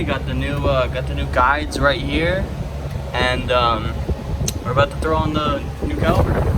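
Steady broadband whir of an electric fan running in a garage during a brake job, constant and close, with someone talking over it throughout.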